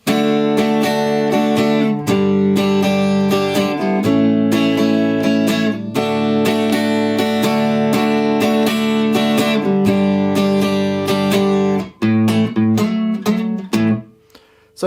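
Close, bright acoustic guitar strums the chorus of a song through a series of sustained chords in steady time, with a brief pause and lighter picking near the end.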